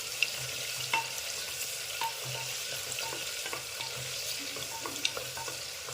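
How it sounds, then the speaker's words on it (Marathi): Sliced onion sautés in oil for Khandeshi masala khichdi, a constant close sizzle with light irregular spatula scrapes and taps throughout, no voices. "कांदा आपल्याला चांगला मऊ होईपर्यंत परतून घ्यायचा आहे"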